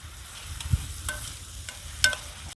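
Garlic fries in a pan and gets stirred, with soft sizzling beneath scattered scrapes and clinks of a utensil against the metal, a few sharp knocks standing out over a quiet kitchen background.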